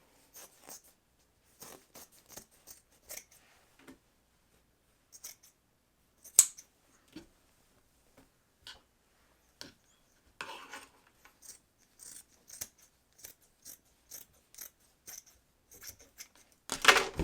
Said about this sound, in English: I'm just going to cut across here. When I cut it open.